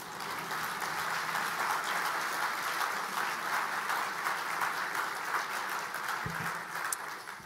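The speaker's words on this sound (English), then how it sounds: "You can clap, I guess." An audience at a literary awards ceremony applauds an honorable-mention honoree, sustained even clapping from a full room that holds steady throughout without voices over it.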